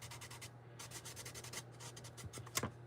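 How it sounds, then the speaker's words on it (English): Close, steady rubbing of a cloth or wipe along the edges of a still-damp craft piece, a soft scratchy swishing in repeated strokes with a brief louder scrape near the end, no talking. "I'm just kind of wiping these edges down just a little bit"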